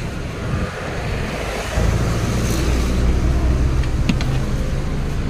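A 2020 Hyundai Accent CRDI on a road test, heard from inside as a steady engine and tyre drone that rises slightly in level partway through, with no talk.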